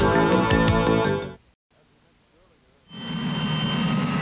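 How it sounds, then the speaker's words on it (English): A racing powerboat engine under test at the 1984 Missouri Governor's Cup drones loudly and steadily, cuts out to near silence for about a second and a half, then returns as a broad, rumbling roar. "They're testing the engine now"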